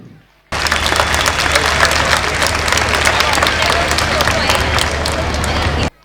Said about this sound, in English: Dear parents, we need to give them a big round of applause.